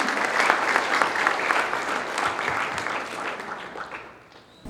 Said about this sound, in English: Let's give a big round of applause to welcome him.